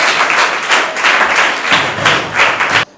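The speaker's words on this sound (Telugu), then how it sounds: "Clap for them." Audience applause in a hall after an exam-preparation talk, a steady wash of many hands clapping together, fairly loud and close, cutting off abruptly near the end.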